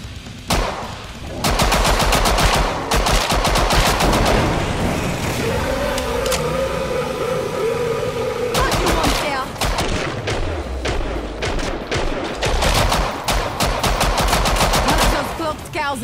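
Rapid bursts of automatic gunfire and heavy thumping shots from the video game Killing Floor 2 rattle loudly and continuously, with brief pauses between volleys.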